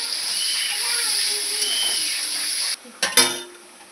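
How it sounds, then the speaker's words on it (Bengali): Potatoes frying in hot oil in a pan just used for frying fish, giving a steady close sizzle that cuts off abruptly, followed by a few sharp clanks of utensils. "এখন দেবো আলু।"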